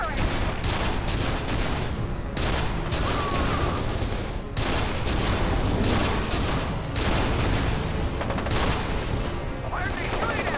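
Sustained gunfire in the shooter F.E.A.R. 2: Project Origin, dense bursts of automatic weapon fire crackling almost nonstop, loud and close, with brief lulls and shouted voices mixed underneath.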